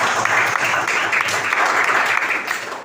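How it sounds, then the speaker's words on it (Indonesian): Audience applause following a group presentation in a training class, a steady dense clapping at close range that holds evenly throughout and thins slightly at the end. "Mari kita berikan aplaus."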